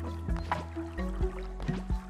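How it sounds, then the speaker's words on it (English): Soft splashing and dripping of water in short bursts as plants are watered in the game Cult of the Lamb, a few quick liquid gurgles over about two seconds, quiet with no talk. "While I water the plants."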